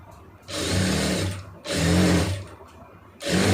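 A sewing machine stitches an armhole joint in three close, loud bursts of steady motor whir, with short pauses between runs.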